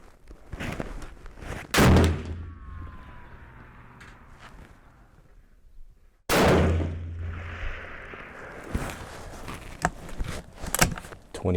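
Two sharp, loud rifle shots, handloaded 130 grain AR Hybrid bullets over 43.2 grains of 4350 in Lapua brass, fired at a desert range in Palmdale, each a sudden blast with ringing decay amid scattered clatter and faint background talk.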